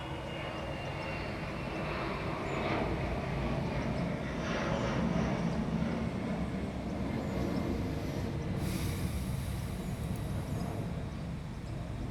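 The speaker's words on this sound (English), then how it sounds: "The Air Force is flying overhead." Military jet aircraft pass overhead with a loud, sustained broadband engine roar that swells and fills the whole clip, steady and close with no talk.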